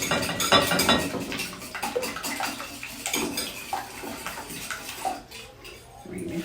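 Beaten eggs being stirred into a corn casserole mixture in a bowl, giving continuous wet sloshing and clinking of a utensil against the bowl, close and fairly loud.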